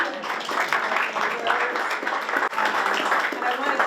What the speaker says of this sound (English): we're going to give the mayor another round of applause.